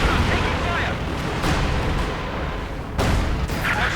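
A vehicle blows up in Company of Heroes 2, a Katyusha rocket truck burning out in battle: dense, rumbling booms and bursts of gunfire roll on continuously, with sharper blasts near 1.5 and 3 seconds, and a caster talking over the din.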